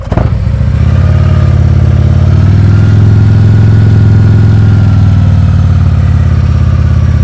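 A motorcycle engine runs loud and close at low speed during slow-speed riding practice, a steady deep throbbing drone after a brief initial rise, with no voices heard.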